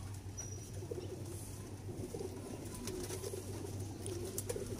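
A shows-bred pigeon of a Mian Nazir bloodline, kept for breeding pairs, coos in low repeated murmurs close by, over a steady low background hum with faint bird calls in the distance.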